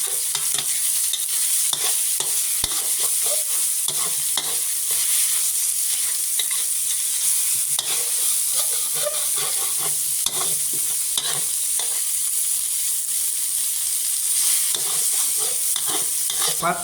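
Pork stir-fried with garlic and shallots in a pan, with loud continuous sizzling broken by repeated scraping and stirring strokes of a utensil, close up.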